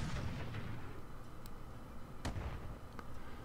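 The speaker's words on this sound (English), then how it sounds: "Somebody's got a gauss rifle." A gauss rifle fires in the video game Roguepoint amid dense, continuous battle noise. Several sharp, bright cracks stand out, one strong at mid-clip and fainter ones around it, with no voices.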